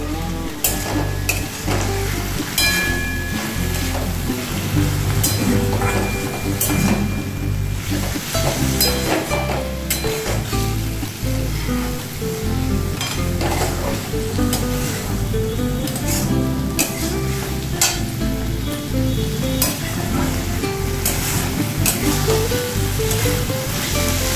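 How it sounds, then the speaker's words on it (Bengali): Poppy seed paste frying in a pan for a Bengali vegetarian dinner dish, a loud, steady sizzle that runs unbroken throughout with no talking. "পোস্ত বাটা দিয়ে আবার ভাজবো।"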